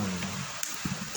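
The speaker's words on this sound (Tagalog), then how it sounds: "Umuulan, panyero, umuulan." Steady rain hissing over the whole clip, with a few soft drip-like taps on top.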